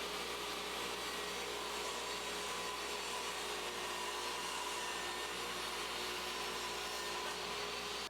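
A Skilsaw SPT99T-01 8.5-inch worm drive compact table saw runs with a loud, steady, unbroken whine and roar throughout while cutting 1/2-inch plywood, and no one speaks.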